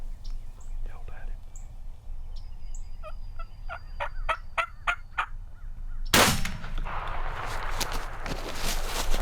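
A wild turkey gobbler gobbles from its roost in a rapid, rattling burst at moderate distance amid quiet woods and soft whispering, followed by a loud sudden crash of noise.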